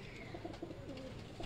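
Pigeons coo softly in a low, rolling murmur, several overlapping calls close by amid faint background noise in a loft of kept pigeons.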